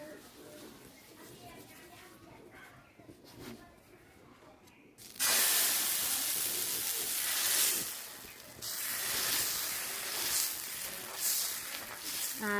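Patishapta pitha batter meets a lightly oiled hot pan with a sudden loud hiss that swells and lingers in waves. A voice is heard quietly before it.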